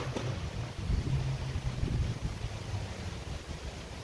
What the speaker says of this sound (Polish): Strasznie wieje, to ciężko będzie puścić coś.